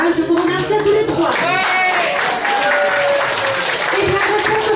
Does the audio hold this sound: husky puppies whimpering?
no